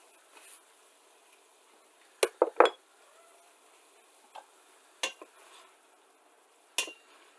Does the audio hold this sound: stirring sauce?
yes